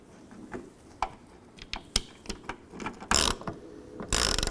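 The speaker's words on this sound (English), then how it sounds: "Line back up in the body and install the screws" A ratchet drives in the mounting screws of a third brake light on a 2005-10 Jeep Grand Cherokee, with close, sharp clicking pawl strokes followed by two louder bursts of rapid ratcheting, with no speech.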